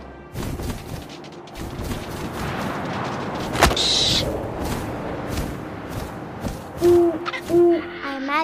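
An owl hoots in the video game What Remains of Edith Finch, a few low hoots near the end over wind and rustling ambience, after a sharp crack and a brief bright tone midway.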